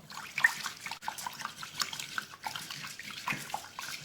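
Water runs steadily from a tap over sushi rice being rinsed for at least the third time, a continuous splashing wash with small surges and gurgles, close and moderately loud, with no talking.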